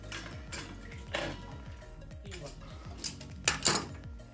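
A metal pressure gauge is screwed onto an aquarium CO2 bottle, giving soft metallic clinks and scraping taps that repeat irregularly at close range, quiet overall, with a few brighter clinks near the end.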